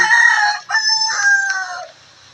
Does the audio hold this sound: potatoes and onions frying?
no